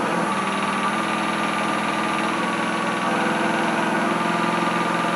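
A wood lathe motor spins up and runs at a steady hum, a continuous close whirring drone with no talking over it.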